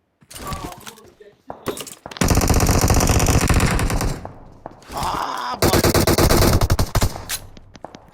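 A UMP submachine gun fires in PUBG Mobile in loud, close, rapid bursts of automatic fire, two long sustained volleys with shorter shots between them, while people talk over it.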